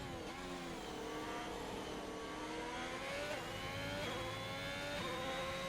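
Race car engine heard onboard in a racing video game on the French GP circuit, climbing and dropping in pitch through continuous revving with gear shifts, steady and fairly loud throughout, with no talk.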